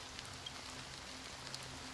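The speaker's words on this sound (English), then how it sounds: "Amidst the fine drizzle of black rain" Fine drizzle of black rain in a Honkai Star Rail cutscene, a soft steady patter with occasional distinct drops and a faint low hum beneath, quiet and without speech.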